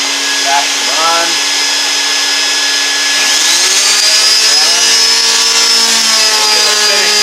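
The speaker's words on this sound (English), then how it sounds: "So now, I'm going to give it a 220 finish sand." A power sander runs steadily on a hickory vanity during a 220-grit finish sand, a constant whining drone with a vacuum running alongside, close and loud throughout with some shifting tones.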